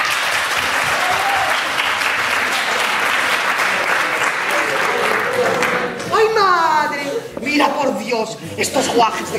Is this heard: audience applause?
yes